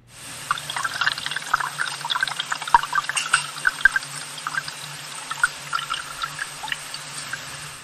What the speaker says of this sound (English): now you can hear the water rushing by in the pipe